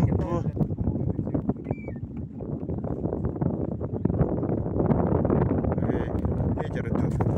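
Steady wind buffeting and rumbling across the microphone outdoors on open water while fishing in Ukraine, continuous and fairly loud, with faint voices and a brief bird-like whistle.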